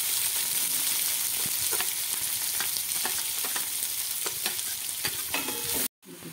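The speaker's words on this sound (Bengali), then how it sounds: "একটু পেঁয়াজটা একটু ভালো করে লাল করে ভেজে নেব" Onions frying in a pan with whole cumin, whole garam masala, chilli and bay leaf for Kashmiri aloo dum, a steady loud sizzle broken by repeated spoon stirs and scrapes, with a brief dropout near the end.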